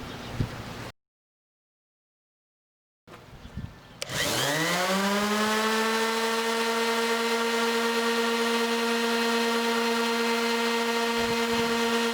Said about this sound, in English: after doing the first round of sanding with the 80